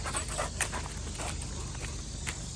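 A boxer dog pants rapidly and heavily in hot weather at a campground, steady breathy huffs with faint footstep-like scuffs, close and continuous.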